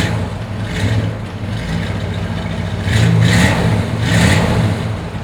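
1957 Chevrolet Bel Air V8 with a 4-barrel carburetor and dual exhaust, idling close by with a steady rumble and blipped up in two short revs; no talking.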